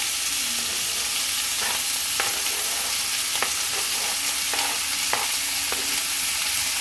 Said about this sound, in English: I'm gonna go ahead and put in the meat so I can start sauteing it.